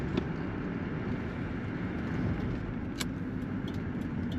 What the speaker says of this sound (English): Today we're driving a 1977 Pontiac Grand Prix.